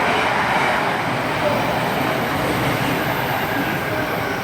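A freight train rumbles past close by at Milton Keynes Central station, a continuous loud roar of rolling wheels and rattling cars that stays steady throughout.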